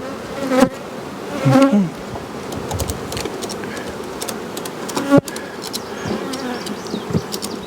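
Honey bees buzz steadily around hive boxes in a late-May beeyard, a continuous insect drone with a few brief bumps and knocks, including one sharp tap near the middle.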